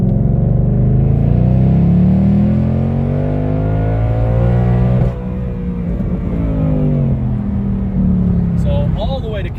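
Ford Mustang engine revved hard to the rev limiter, a loud near roar with rising and falling pitch sweeps, easing off partway through, with a voice faintly present over the engine.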